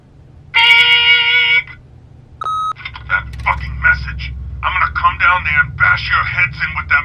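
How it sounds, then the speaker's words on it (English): An answering machine in The Wolf Among Us video game gives a long, loud electronic tone and then a shorter beep, after which a voice begins speaking over low background music. "leave a message at the beep"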